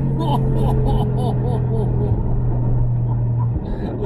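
An 800 hp Brabus G800 G-Class drives on a road, its engine giving a deep steady rumble heard from inside the cabin while someone talks excitedly over it.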